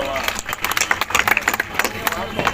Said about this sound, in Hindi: जरा तालियां बजा दो